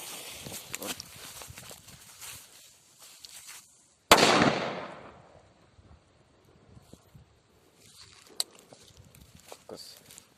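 A Viper 1 firecracker goes off with one loud, sharp blast outdoors, set on the ground, followed by a long fading echo; a few faint clicks and rustles come before and after it.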